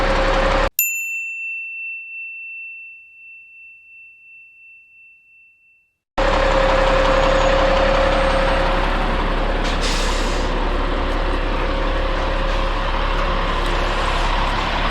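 A pay loader's diesel engine fires up after a brief ding and a long quiet gap, then settles into a loud, steady idle rumble that runs on without a break.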